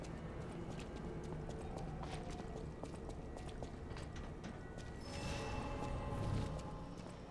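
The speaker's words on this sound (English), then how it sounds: "Mad donkey." Quick, rhythmic hoofbeats of a mad donkey in the game Lies of P clatter at moderate distance over dark ambient sound, growing louder and busier toward the end.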